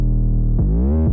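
A long 808 bass slide programmed in FL Studio: a loud, deep sustained bass note that holds, then glides upward in pitch over about half a second before cutting off.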